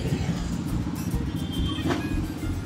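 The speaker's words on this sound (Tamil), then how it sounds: "எல்லாம் வண்டி பிளாட்ஃபார்மில் ஓடுது" Steady road traffic near a beach, with cars and other vehicles rumbling and droning continuously, fairly loud and close with no talk.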